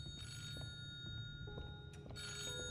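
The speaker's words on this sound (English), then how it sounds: "Oh, phone call." A telephone rings inside a mansion exploration video game, two bright electronic ring bursts separated by a pause, sitting over a low ambient game background with no talking.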